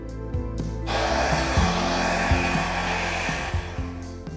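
A hair dryer blows hot air over poured acrylic paint in a lava pour, a loud close steady whoosh and motor hum that switches on after a second and runs continuously, with no talking.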